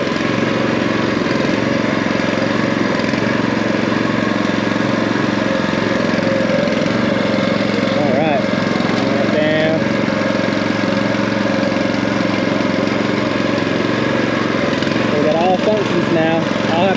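A cheap firewood conveyor runs with an engine drone that is steady, loud and close. It continues without pause, and brief voices come through in a few places.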